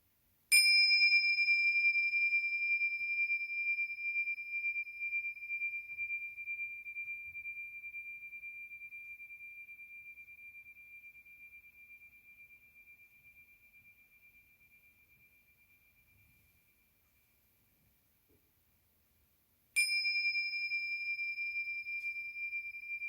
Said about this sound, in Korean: 다시 한번 종소리에 마음 모으는 시간을